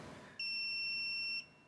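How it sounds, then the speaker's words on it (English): A diagnostic unit connecting to a Mercedes-Benz car gives a single steady electronic beep lasting about a second, clear and alone in a quiet setting. "That beep means it is connected."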